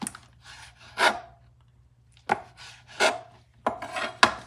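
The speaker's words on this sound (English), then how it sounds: "So here's the squid. Just cut it in rounds." A knife slicing squid into rounds on a cutting board: a few separate close chopping strokes, each a short soft crunch ending in a knock on the board, spaced irregularly with brief pauses between.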